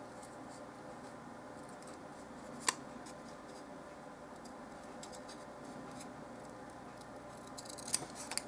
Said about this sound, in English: So I'm going to hopefully cut this out fairly carefully.